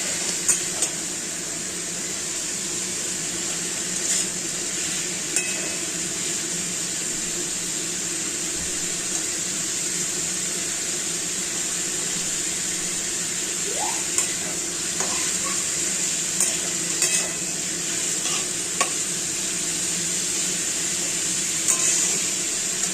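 Papaya shukto, a Bengali dish, being stirred and mixed in a pan: a faint, steady low sizzle with occasional soft scrapes and clicks, no talking.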